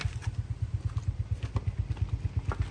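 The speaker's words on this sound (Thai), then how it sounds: "มาฟังเสียงเครื่องยนต์กันนะครับ" A Honda City Type Z car engine idling nearby with a steady, rapid low pulsing throb, running alone without talk.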